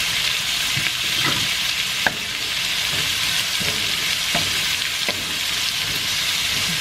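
Onion sizzling in a pan with garlic for a shrimp corn soup, a steady close crackling fry with occasional sharp ticks and stirring clatter, no talk.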